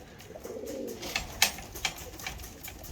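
Racing pigeons cooing softly inside a loft, a low burbling coo near the start followed by a few scattered faint flutters and clicks, fairly quiet with no talking.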